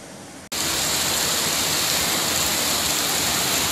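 The Nilwala river in flood at the Hulandawa canal in Sri Lanka produces a loud, unbroken roar of rushing water that starts abruptly and stays at a constant, dense level.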